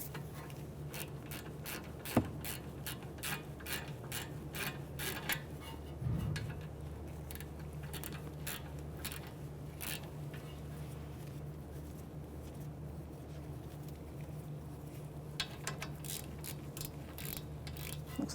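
Ratchet wrench fitted with a 14mm socket working on the front brakes of a 2017-2022 Honda CR-V, producing a quick series of close, crisp clicks in bursts with short pauses, over a steady low hum and no talk.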